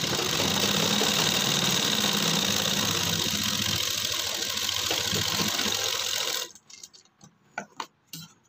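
A sewing machine runs continuously, stitching a shirt collar to its band, with a dense steady whir for about six seconds before it stops, leaving a few close, irregular clicks and knocks.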